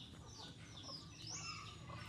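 Native chickens kept on a farm, faint clucks and chirpy calls scattered over a low, steady background hum, heard at a distance.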